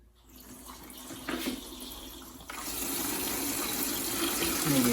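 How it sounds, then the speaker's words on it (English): Water draining from a household water heater into a bucket, a steady gushing stream that starts faintly and grows louder and fuller, heard on its own without talk. "it's also recommended to take some water out, although not all of it"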